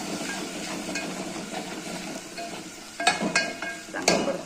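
Spices with salt and garam masala sauté in a pan, giving a soft, steady sizzle. Several sharper scraping stirs land toward the end, with no talk.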